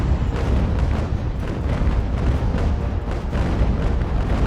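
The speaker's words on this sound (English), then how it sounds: "I'm impressed with their cannons." Naval cannon fire from sailing ships in the game Ultimate Admiral: Age of Sail, a dense, continuous rumble of booming broadsides and bursts that rolls on without pause and is heard loud, with no talk.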